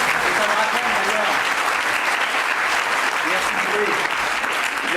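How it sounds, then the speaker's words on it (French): A comedy show audience applauds in a steady, dense, loud burst of clapping that continues without a break, filling the room from start to finish. "Allez, applaudissez Apollinaire, c'est pas pour moi qu'il faut applaudir, c'est Apollinaire."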